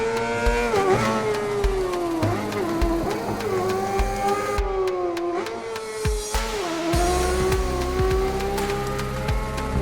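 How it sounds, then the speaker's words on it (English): Motorcycle engine in the racing video game Ride 4, revving high and steady, then dipping and climbing as gears change, loud and continuous with no talking. "I've got to roll off and apply the brakes for this preview of Ride 4 on PC."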